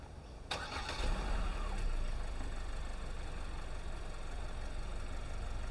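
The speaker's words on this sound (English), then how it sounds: "you can remote start them just from the keys" A 2024 Hyundai Kona N-Line starts remotely from its key fob with a sharp crank and then settles into a steady, moderate idle that carries on alone, no talking.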